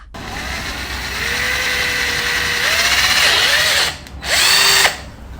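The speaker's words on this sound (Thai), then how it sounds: "สำหรับวันนี้เราก็เลยใช้ลูกหมูตัดค่ะ" A small angle grinder cuts light steel wall-frame studs during a partition build, a loud steady whine that dips and rises as the cut changes, stops briefly, then returns for a second short cut.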